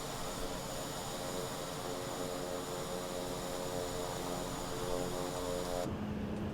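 Steady idling drone of a PC-12 turboprop engine in Microsoft Flight Simulator, a continuous even hum with a sudden shift in tone near the end.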